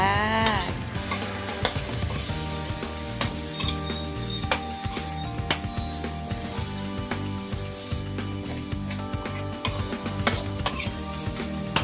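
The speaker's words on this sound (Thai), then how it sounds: "เอาหนูมาใส่เลย ผัดรวมกับพริกแกงไปเลยจ้า" Field rat is stir-fried with curry paste and leaves in a pan: a utensil repeatedly scrapes and clatters against the metal as the pan sizzles steadily. The scraping comes in irregular strokes, close up, with no talking.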